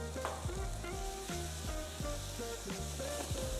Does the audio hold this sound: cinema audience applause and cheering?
no